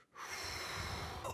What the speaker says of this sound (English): The breathing starts to get heavy.